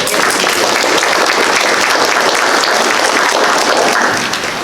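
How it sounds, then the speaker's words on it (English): Members at a Lions cabinet meeting give themselves a round of applause, a loud, sustained wash of many hands clapping that holds steady and then eases slightly at the end. "I want us to give ourselves a round of applause."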